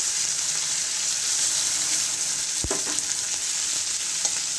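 Onions and spices frying in a pan give off an even, hissing sizzle throughout. A single dull knock lands midway, and no one speaks.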